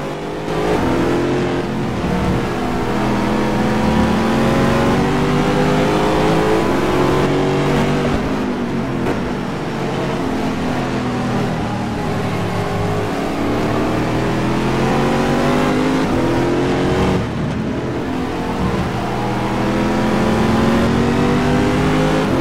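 BMW and Corvette GTE race cars at Spa-Francorchamps in the climb to Kemmel, with loud, sustained engines revving and shifting through gears as they pass close by, continuous and aggressive with no speech.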